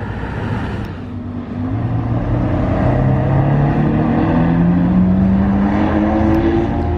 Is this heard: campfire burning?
no